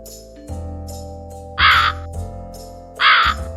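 Two loud, harsh crow caws ring out alone, each short and separated by a gap, over a faint steady background hum.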